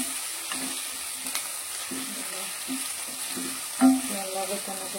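Ginger garlic paste with salt fries in a pan as a soft, steady sizzle with light stirring taps, a short louder clatter midway, and faint spoken voice underneath.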